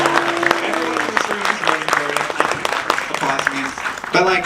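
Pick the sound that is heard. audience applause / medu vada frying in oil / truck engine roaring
audience applause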